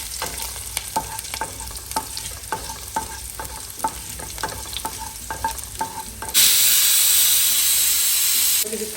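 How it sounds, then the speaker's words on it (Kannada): Mustard seeds, curry leaves, green and red chillies frying in hot oil for a North Karnataka sprouted-lentil palya, with regular stirring scrapes over a steady sizzle that swells into a loud, bright hiss near the end. "ಸ್ವಲ್ಪ ಚೆನ್ನಾಗಿ ಫ್ರೈ ಮಾಡಬೇಕು."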